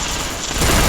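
Burst of automatic gunfire from a Counter-Strike match, a short loud rattle of rapid shots that swells in the second half, with no talking.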